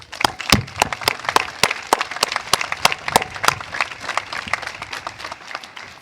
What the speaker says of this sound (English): Can we have another round of applause for our veterans?